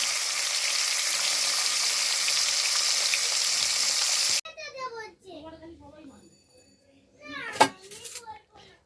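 Fish fries in a pan with a dense, steady sizzle that cuts off abruptly halfway, followed by a voice and other household sounds.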